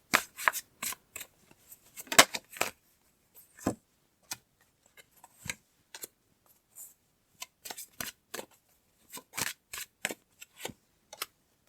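Tarot cards are shuffled and handled in a quiet room, with soft riffling bursts, flicks and taps coming in irregular clusters at close range and no voices.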